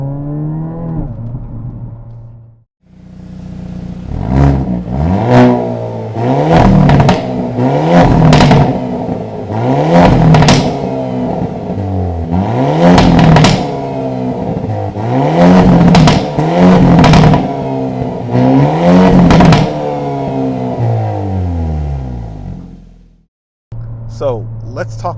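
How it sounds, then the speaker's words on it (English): A Hyundai Elantra N sport sedan's exhaust revs repeatedly, rising and falling in a series of about eight sharp throttle blips with crackling pops between them, loud and close. "I might make a cut scene and just let you guys hear that exhaust."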